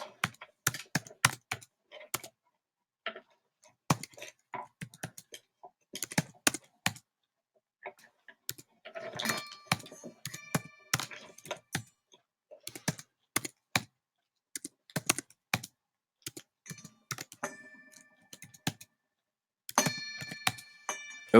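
Numbers being typed into a spreadsheet on a computer keyboard: sharp, close key taps in short irregular bursts separated by silent pauses, heard alone without speech.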